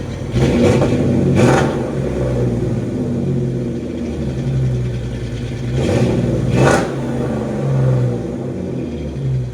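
A custom rock crawler truck engine idles with a loud, raw open-header exhaust rumble, then revs sharply twice, each blip roaring up and falling back to a throbbing idle.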